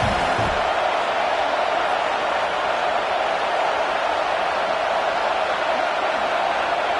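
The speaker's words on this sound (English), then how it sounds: "The Tide crowd rolling noise down onto Saban Field on third down." Alabama Crimson Tide football crowd roaring steadily at the stadium on third down, a loud, sustained wash of voices with no breaks across the whole stretch.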